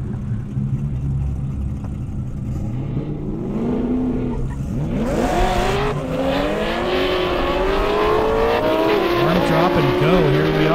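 Race cars, among them an Audi R8 and a Camaro ZL1, rev and speed down an airstrip at a drag event in Indiana, engines climbing loudly through the gears with rising and falling pitch as they pass close by.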